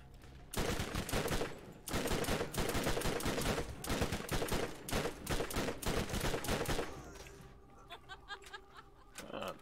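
Rapid gunfire in the video game Borderlands, sustained loud bursts of automatic shots for several seconds, then fading to scattered sounds, with brief laughter and voices mixed in.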